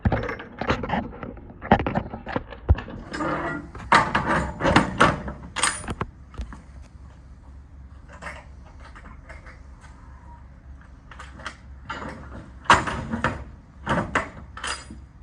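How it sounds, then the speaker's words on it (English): Dry van trailer doors and a cantilever liftgate being shut, a series of sharp metallic bangs and clunks in bursts, loud and close, with quieter rattles between. "we'll close the doors, and we'll close the liftgate."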